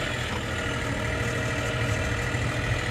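John Deere 3520 diesel tractor running at low revs in deep cold and snow, a steady close rumbling idle with an even low throb throughout and no voices.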